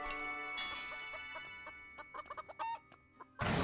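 A chicken clucks in the game Fuga: Melodies of Steel, giving a short series of close, distinct clucks over faint game music, then a burst of noise at the end.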